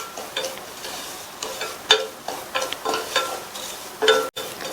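Semolina roasts in ghee in a pan over a low flame, a soft dry sizzle broken by repeated scraping strokes of a spoon with small metallic clinks, close by and with no talking.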